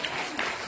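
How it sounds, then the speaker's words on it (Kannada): A short burst of congregation applause during an Easter resurrection Sunday church service, a moderately loud, even patter of clapping from the crowd. "ಚಪ್ಪಾಳೆಯ ಮಹಿಮೆಗಾಗಿ"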